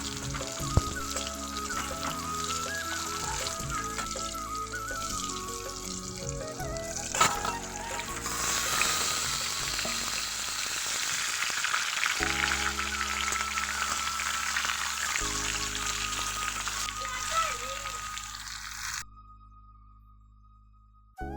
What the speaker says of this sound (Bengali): এই দেখো আলুগুলো ভালো করে একটু ভেজে নেব।